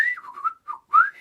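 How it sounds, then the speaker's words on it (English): A person whistles a short, high tune of three clear, sliding notes with brief gaps, close and fairly loud, with no talking. "I could do the high whistle"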